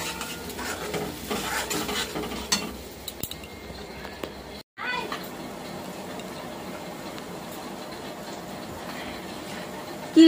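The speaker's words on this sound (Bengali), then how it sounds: "এই যে এখন দিয়ে দেবো হচ্ছে হলুদ আর নুন, ভালো করে কষিয়ে নিই মশলাটা" A turmeric and salt spice paste is stir-fried for lentil dal, with continuous close scraping and stirring, a light sizzle and occasional clinks of the utensil, broken by a brief silence midway.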